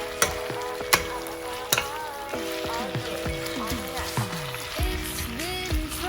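Chicken biryani cooking in a pan while being stirred, a steady close sizzle broken by sharp clacks of a utensil against the pan, with music playing over it.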